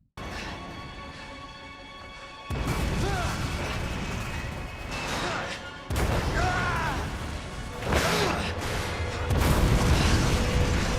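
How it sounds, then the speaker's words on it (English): Explosions go off in the Resident Evil video game. Several heavy booming blasts and crashes come in bursts over a continuous loud roar of game audio, with sharp tonal squeals between the blasts. "there is a further explosion that hits them and causes the floor to break and drop Leon underneath"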